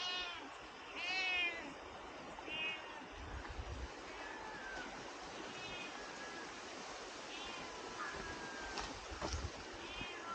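A farm cat meows repeatedly at a middle distance in irregular bursts, against a steady rushing, water-like background wash.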